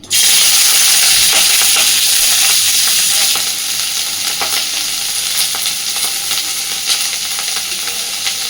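Thickly chopped onion and slit green chillies hit hot fish oil with a loud, bright burst of sizzling that settles after a few seconds into a steady, softer frying hiss with faint scraping.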